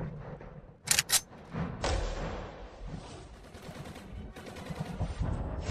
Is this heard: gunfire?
yes